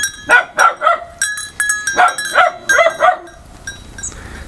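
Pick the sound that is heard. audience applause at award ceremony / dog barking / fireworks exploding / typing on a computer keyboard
dog barking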